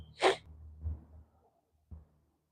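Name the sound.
sneeze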